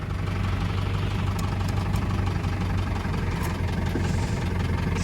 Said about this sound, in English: Let's do a little walk around while it's idling.